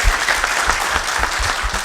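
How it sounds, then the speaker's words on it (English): An audience at a sustainable development goals dialogue applauds the panel with loud, dense clapping, sustained and even throughout with no voices over it. "a round of applause for our panel"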